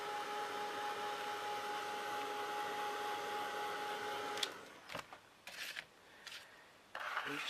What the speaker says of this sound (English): give it another blast with a heat gun